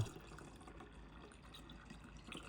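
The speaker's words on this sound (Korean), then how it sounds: "먼저 깔때기를 꽂은 뒤에 원하는 소스를 부어주세요" Sauce poured through a funnel into an empty soju bottle, a low, steady liquid trickle that runs faintly and continuously throughout, with no talking.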